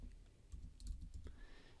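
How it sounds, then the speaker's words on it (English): Quiet, quick taps on a computer keyboard, several keystrokes in an uneven burst, with soft room noise between them. "or you can simply start typing"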